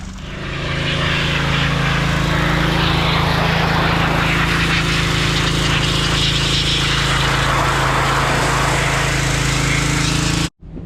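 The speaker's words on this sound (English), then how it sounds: "he's gonna go pressure wash the transfer case" Steady loud roar of a pressure washer spraying a Ram Cummins transfer case, continuous and close for about ten seconds before cutting off abruptly.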